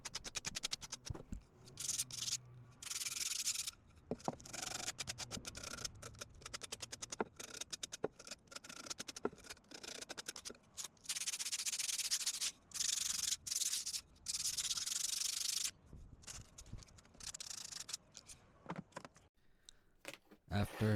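Wooden desk leg pieces sanded by hand at the corners: bursts of close, scratchy rubbing strokes repeat in an uneven rhythm, separated by brief pauses and small handling sounds.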